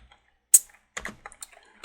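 Command typed on a computer keyboard at a C prompt, one sharp keystroke followed by a quick irregular run of lighter key taps, close and alone.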